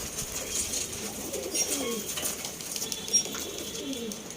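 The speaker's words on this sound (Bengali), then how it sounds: "দেখুন পায়রাগুলো, এই হচ্ছে পায়রা," Loft pigeons of the Arsad and Andhra lines coo softly in repeated low phrases, with faint wing flaps and rustling in between and a quiet indoor background, no voices.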